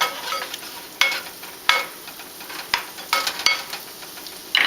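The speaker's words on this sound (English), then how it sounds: "we just want to simply saute these for about a minute or so" Ginger and other aromatics sauté in a hot pan, a steady sizzle broken by several sharp scraping stirs spaced about a second apart, close and with no talking.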